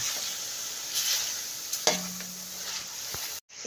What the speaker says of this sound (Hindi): इसमें डालेंगे अदरक पाउडर 1 चम्मच और इसके साथ हम 2 मिनट के लिए चिकन को फ्राई करेंगे।